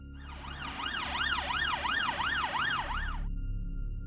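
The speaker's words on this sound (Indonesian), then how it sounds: "tiba-tiba Danar ngedenger suara dari kejauhan. Sirine ambulans." An ambulance siren wails in a rising-and-falling sweep, repeating steadily for about three seconds at moderate volume before cutting off, leaving faint background hum.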